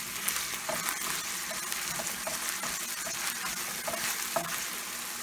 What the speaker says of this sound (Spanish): La estoy friendo con un poquito de aceite.